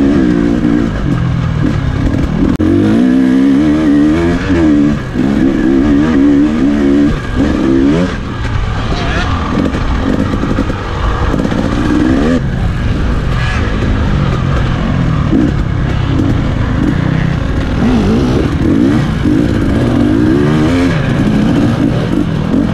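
Race cars at full throttle on the Monster Mountain circuit, heard from on board as one loud engine howls continuously through gear changes and shifting revs, with another car running close behind.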